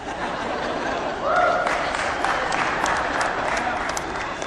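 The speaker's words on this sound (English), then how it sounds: "Somebody always claps at that." Lecture audience clapping after a line about an ancient Sumerian beer god, a moderate wash of hand claps mixed with light chuckling from the crowd, steady for a few seconds.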